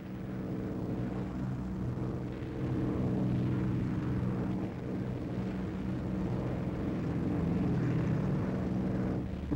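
The four piston engines of the B-17 bomber Memphis Belle drone steadily in flight, a loud, continuous, rumbling propeller roar with a slight pulsing. No voices are heard over it.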